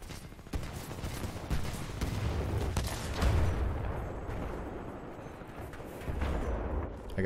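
In the video game Titanfall 2, Kraber sniper rifle shots and other gunfire crack out amid a busy, rumbling battle mix, with several sharp reports spread across the stretch.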